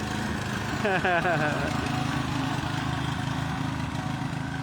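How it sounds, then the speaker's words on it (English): A small engine on display at a haulage and commercial vehicle show chugs steadily like a lawnmower, a rough mid-pitched drone, with a person briefly talking over it. "that sounds like a lawnmower engine."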